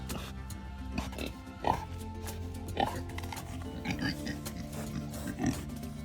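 Pigs oinking and grunting at a farm while being fed tomatoes, a series of short close grunts spaced every second or so, with a person talking throughout.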